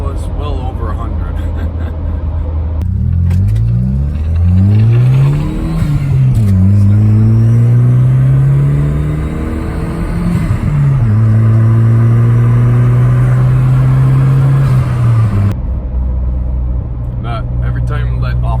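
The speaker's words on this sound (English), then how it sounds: "I love how this thing revs, because it gets more power the higher you rev it" A 1990s Volvo 940 Turbo engine revs hard at speed, its loud droning note rising in repeated sweeps and dipping at each shift, steady close road noise throughout.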